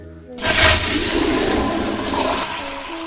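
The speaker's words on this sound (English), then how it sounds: "he flushed the toilet at the exact same time the killer stood up" A toilet flushes loudly and close by, a sudden rushing roar of water that starts after a brief quiet moment and churns steadily for a few seconds on its own.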